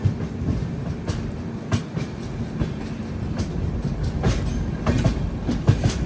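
Train rumbles past nearby at a station yard, with continuous low rolling noise, rhythmic wheel clacks over rail joints and occasional metallic squeaks, steady and fairly loud throughout.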